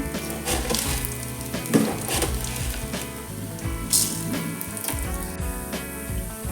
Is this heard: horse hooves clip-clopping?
no